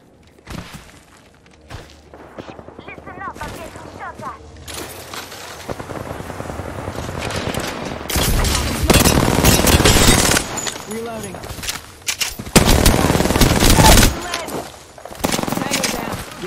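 Shooter video game firefight with loud bursts of automatic gunfire and single shots, intensifying in the second half, alongside radio-style game voice lines and a helicopter-like drone.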